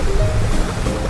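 Ocean waves in an animated story rush and churn loudly in a brief, full burst of surf with no talking over it.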